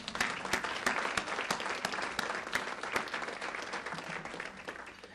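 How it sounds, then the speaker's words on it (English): Panel audience applauding steadily at a televised politics panel event, a dense wash of many hands clapping that holds at an even level for several seconds before easing slightly. "I think that is the cue for the applause."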